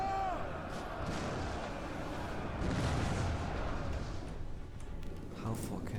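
Giant ballistae fire in a Total War: Rome 2 battle, heard as a dense, continuous roar of heavy thuds and rumbling impacts that stays loud the whole time, with a voice over the din.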